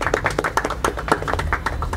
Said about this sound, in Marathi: त्यासाठी पण जोरदार टाळ्या झाल्या पाहिजे